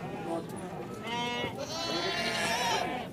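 Goats bleat at a crowded goat market in Surubim, Pernambuco, a few short wavering cries close by amid background chatter, with people talking over them.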